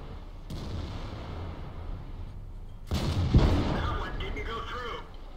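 A World of Tanks tank cannon fires at a WZ-111 turret front: a booming shot rings out near the start, and a second louder blast follows midway, trailing into rumbling battle noise and metallic ricochet tones.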